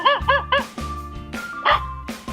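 A dog barks repeatedly in short, loud bow-wow yips, several barks in quick succession with brief gaps, close and clear with no talking.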